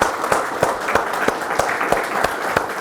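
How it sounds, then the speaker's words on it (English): A conference audience gives a round of applause for a speaker at a UK opening session. Steady, dense clapping from many people carries evenly from start to finish, with a few sharper claps rising out of the wash. "Could we have a round of applause for Lisa while she's there?"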